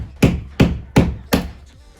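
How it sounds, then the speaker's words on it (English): Wall anchors are hammered into a wall for a DIY shelf: four sharp, loud hammer blows, evenly spaced about a third of a second apart, each ringing briefly, heard close with no talking. "carefully hammering in these anchors"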